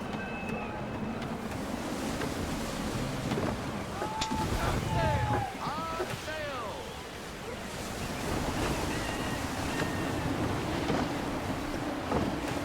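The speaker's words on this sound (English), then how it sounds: "Gusty winds can be difficult to manage." Gusty wind and surf surround a sailing ship at sea in Assassin's Creed 3, a loud continuous wash of waves and blustery wind with creaking and faint calls mixed in, swelling and easing throughout.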